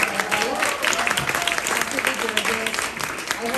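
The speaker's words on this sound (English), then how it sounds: "Let's give her a round of applause" An audience in a New York City makeup masterclass applauds at the end of a demonstration, a continuous wash of clapping heard with talking layered over it.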